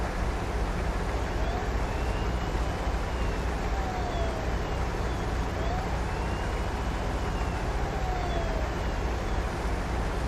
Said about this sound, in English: Got a couple more sirens to go.